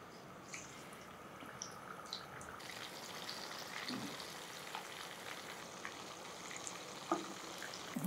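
Shark fish frying in oil with garlic paste, a steady soft sizzle with faint crackles running throughout and a few brief clinks near the end.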